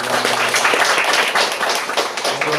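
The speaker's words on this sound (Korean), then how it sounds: "오늘 선곡에 계신 모든 분들 위해서 우리 다시 한번 박수하겠습니다." Members of a church congregation clap during a Sunday worship service, a brisk, close burst of many hands with distinct individual smacks, holding steady for a couple of seconds.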